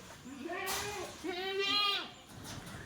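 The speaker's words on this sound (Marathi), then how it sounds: "तर मित्रांनो या शेड्या आहेत" Goats in a shed at a farm keeping African Boer and Rajasthani goats let out two wavering bleats in succession, fairly quiet and nearby.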